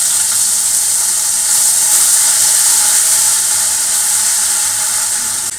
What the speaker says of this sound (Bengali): দিয়ে দেবো একটু আদা ফোড়ন তিতার ডালে